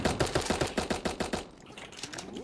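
An SMG in a battle royale video game fires a fast burst of about a dozen crisp shots, then stops, leaving quieter game noise behind.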